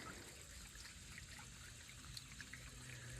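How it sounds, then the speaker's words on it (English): Water trickles faintly from a slowed-down water wheel into a garden pond, a quiet, continuous dribble with a few small splashes. "Yeah, the water wheel's really slowed down. It's more of a trickle now."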